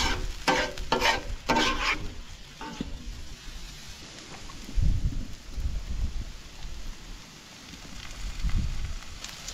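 Food cooking on low heat in a pan at a camp stove beside a teardrop trailer, with a few scraping stirs early on, then a soft, steady sizzle and low rumbling background throughout.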